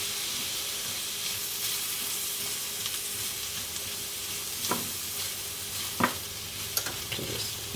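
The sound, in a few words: mushrooms frying in olive oil on low heat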